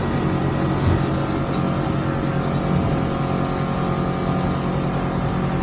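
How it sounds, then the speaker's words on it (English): Outboard motor on a 2023 Hewescraft 250 Alaskan Hardtop boat runs steadily on the water with the motor trimmed up, a loud, continuous engine drone with no talk over it. "I'm trimming the motor up right now."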